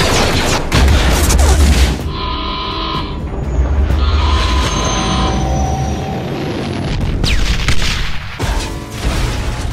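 Blaster fire in a Clone Wars fan film, heard as dense volleys of sci-fi shots and booms layered over rumbling ship noise, loud and sustained, with no talking.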